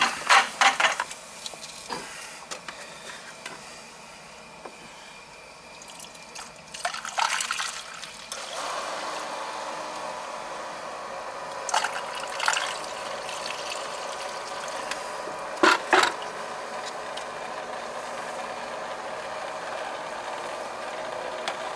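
Water circulating through a hydro air home heating system pump, a faint trickling and gurgling flow with occasional clicks and bursts, steady and close, no voices.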